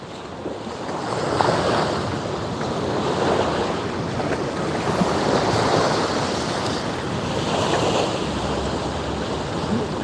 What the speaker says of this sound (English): You can't beat the sound of the sea, can you?